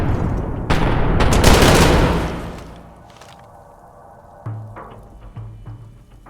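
Gunfire in Fallout 4, a dense volley of shots and bursts, loud and close, that thins out into scattered single shots and thuds toward the end, with no talking over it.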